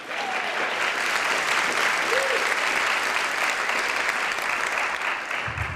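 Audience at a Columbia Journalism School public-safety conversation breaks into sustained, dense applause, steady clapping from a sizable crowd that fills the room and holds at an even level before tapering off at the end.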